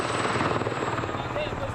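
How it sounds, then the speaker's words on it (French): A military helicopter flies over in Mali, its steady rotor and engine roar filling the scene continuously and loudly, close by. "Il y a aussi des hélicoptères, prêts à faire feu."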